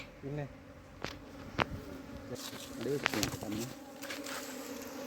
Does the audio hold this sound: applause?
no